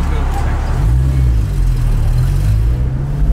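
GT car, a Porsche GT4, rolling through a toll booth in the rain, its engine a low rumble under the hiss of wet road noise, close inside the cabin with people talking over it.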